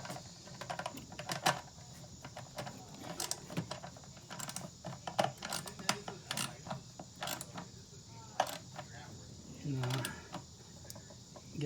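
A ratchet snugging a bolt on the back of the intake manifold bracket of a Toyota RAV4 Limited 3.5L V6: quiet, irregular clicking bursts at close range, with brief pauses between strokes.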